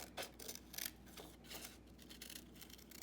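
Scissors snip through paper while a paper illustration is trimmed, a few quiet crisp cuts and rustles spaced irregularly, close and faint.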